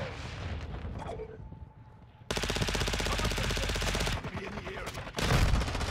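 Dense automatic gunfire from the shooter game Modern Warfare 2 rattles in long loud bursts, broken by a short quieter gap with a faint tone, then resuming hard with heavier booming shots near the end.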